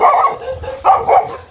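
Dogs barking in a Thai village, two or three loud, close barks in quick succession with a short pause between them.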